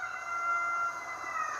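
Roosters in a neighbouring yard crow at midday, with a sustained, somewhat distant crowing call that swells and fades.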